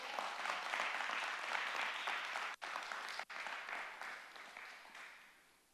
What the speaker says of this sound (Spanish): Dele un aplauso, Señor, por favor